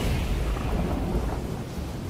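Lightning thunder from the video game Immortals Fenyx Rising sounds as a loud, deep, sustained rumble that stays dense and close throughout, with no voices.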